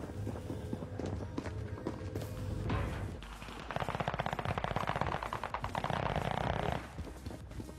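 Video game gunfire rattles close and loud, a few early shots then a long rapid automatic burst lasting about three seconds, with footsteps and thuds mixed in.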